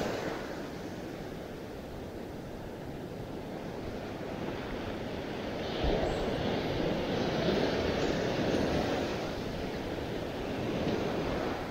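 Ocean surf washes in steadily at a hidden beach, a broad continuous roar that swells slightly midway, with wind buffeting the microphone and no talking.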